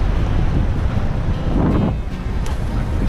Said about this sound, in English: I can see the wind's picking up.